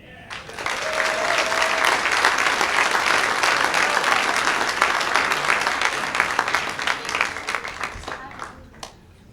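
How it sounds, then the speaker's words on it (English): A comedy show audience gives a big round of applause for a comedian taking the stage, a loud, dense wash of clapping that swells and holds, then thins into scattered claps near the end. "Please give a big round of applause for Michael Dendy."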